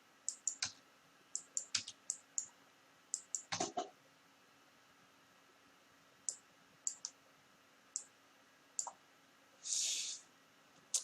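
Computer mouse clicks while editing text boxes in Microsoft Word, sharp isolated taps at an irregular pace across a quiet room, with one brief soft rustle near the end and no speech.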